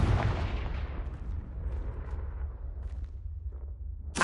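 Confringo fire spell blast in the Hogwarts Legacy video game, a deep booming explosion that erupts loudly at once and rumbles away over several seconds, with a sharp crack returning at the very end.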